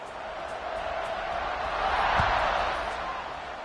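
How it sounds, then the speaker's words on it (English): A football stadium crowd at a Texas game roars during a kickoff, a broad, steady wash of cheering that swells toward the middle and then eases slightly. "this crowd is feeling themselves after that last drive"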